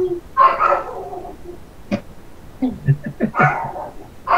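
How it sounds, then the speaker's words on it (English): Another dog barks in short bursts at a distance, while a person talks over and between the barks. "You hear the other dog?"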